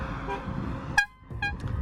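Two short vehicle horn honks aimed at a cyclist on a road, the first sharp and loud, the second a quick follow-up, over a rumbling traffic and wind background.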